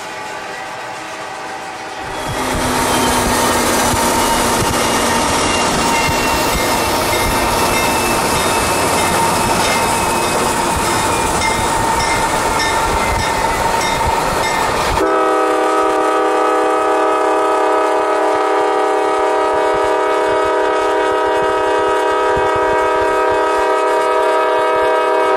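Norfolk Southern freight train NS 152, northbound, rumbles past loud and close, with a broad, continuous roar that gives way to sustained horn-like tones.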